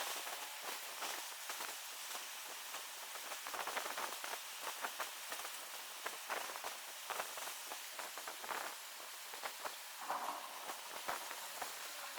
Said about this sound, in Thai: เสียงอาจจะดังครับฝนตกครับ